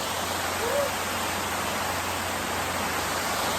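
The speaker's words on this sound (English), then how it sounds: "But there's also this like little waterfall." Small waterfall on Mosquito Beach at Pictured Rocks, a continuous broadband rush of falling water that stays loud and even throughout.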